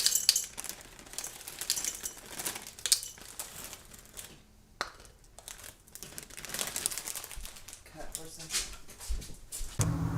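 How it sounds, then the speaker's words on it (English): Dry pasta noodles, such as O shapes or wagon wheels, poured into jars, rattling and clattering in irregular bursts with brief pauses, close and crisp, with some talking mixed in. "You're going to fill the jars about half full of noodles."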